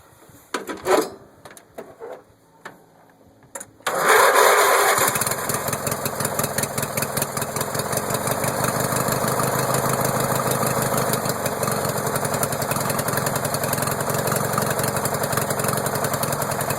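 A car engine cold-starts after a few short cranking bursts and pauses, then catches suddenly and settles into a loud, steady, slightly uneven idle that continues close by.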